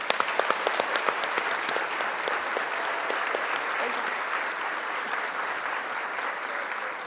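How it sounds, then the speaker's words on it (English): Audience applause at a State of the City event honoring three students, dense sustained clapping from a large crowd, steady and loud throughout with no talk over it. "Let's give one more big round of applause to these three outstanding students."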